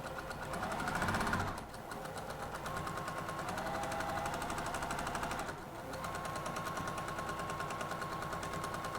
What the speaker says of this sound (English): So I'm going to take a couple back stitch, yank that pin out.